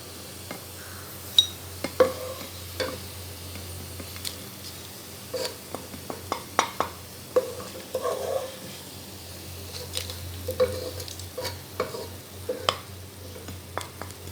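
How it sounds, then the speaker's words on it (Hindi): Golden onions frying in oil while a utensil stirs and scrapes the pan, quiet background sizzle under repeated sharp clinks and scrapes spread through. "प्याज को हमने अच्छा सा फ्राई करके निकाल लेना है।"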